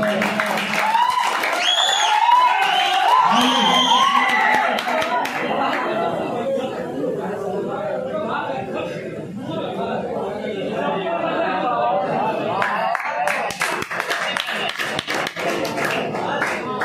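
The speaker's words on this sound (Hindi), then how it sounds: "ताली बजाओ भाई" An Urdu mushaira audience claps in scattered, uneven bursts amid crowd chatter and a voice over a PA, with the clapping strongest toward the end.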